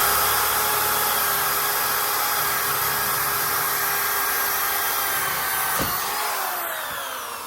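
A power drill fitted with a hole saw bit cuts through wood in a steady, high, continuous whir that holds for several seconds and then tapers off, with a few faint knocks near the end.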